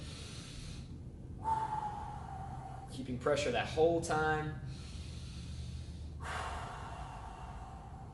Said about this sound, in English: So you can hear the breathing.